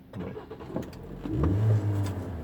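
A car engine runs close by, rumbling low and uneven at first, then settling into a louder, steadier hum after about a second, with no talking.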